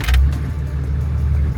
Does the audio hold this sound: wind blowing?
no